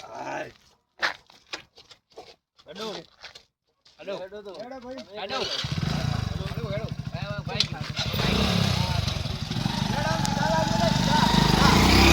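A motorcycle engine starts up and keeps running steadily, close and growing louder, with the rider and passengers talking over it and birds audible early on before the engine takes over.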